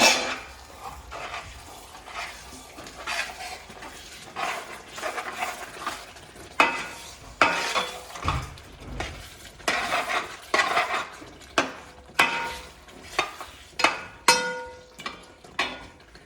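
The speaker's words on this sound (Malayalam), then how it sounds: "നമുക്കിതൊന്ന് തുറന്ന് ഇളക്കി കൊടുക്കാം" Jeeraga chicken stirred in an open pan: repeated clanks and scrapes of a spoon against metal over a low sizzle, coming in irregular bursts, close up with no voices.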